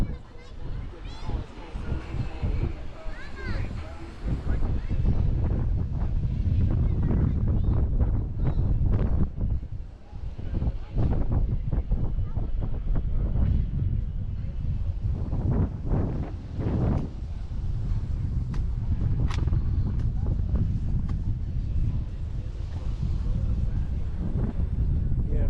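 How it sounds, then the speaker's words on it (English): Strong wind buffets the microphone on a beach, a loud continuous roaring rumble with gusts, while someone talks over it. "This wind is flipping out here."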